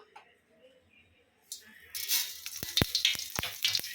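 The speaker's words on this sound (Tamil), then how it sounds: "கடுகு நல்லா பொரியுது பாருங்க" Mustard seeds splutter in hot oil in a kadai, a sizzling hiss that builds and then breaks into sharp, close crackling pops at an uneven rhythm, faint overall.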